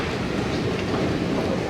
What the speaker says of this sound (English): Now have to take SkyTrain to the rental car center.